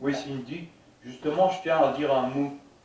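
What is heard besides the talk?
No everyday noises stand out.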